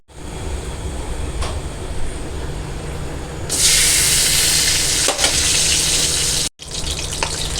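Desi ghee melts in a hot karahi over a low background rumble; a loud, steady sizzling hiss breaks out partway through, drops out for an instant, then returns.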